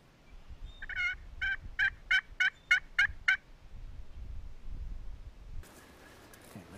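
A wild turkey in Nebraska gobbles in a rapid burst of about eight rhythmic, loud notes, followed by quiet outdoor ambience and a brief rustle near the end.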